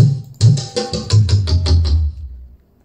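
Dholak drum samples from the Dolak 3 library play a short run of about eight quick strokes, alternating deep bass thumps and sharp slaps, close and dry before fading out.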